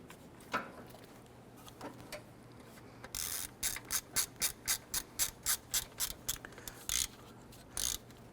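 A ratchet tightens a 10mm bolt on the front of the alternator harness of a 2012-2017 Toyota Camry 3.5L, giving a close, steady run of about a dozen crisp clicks after a few scattered earlier ones.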